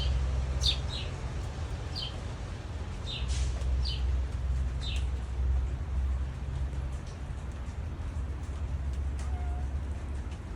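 Several short bird chirps ring out in the first half over constant rain and low traffic rumble, with one more faint call near the end.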